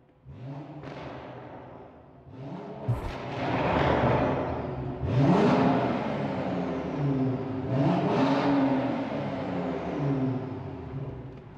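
A 400 hp BMW 535i F10 fitted with a REMUS exhaust accelerates hard through several gears, the engine note rising in repeated sweeping pulls with sharp shift breaks between them, loud and close, no talking.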